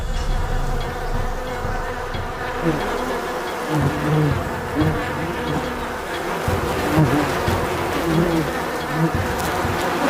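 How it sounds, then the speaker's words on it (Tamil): A swarm of bees in an Indian forest in Bengal, driven out of the hive by smoke, makes a loud, dense, continuous buzzing that fills the whole stretch, with no talk. "தேனீக்கள் வெளியே வருது."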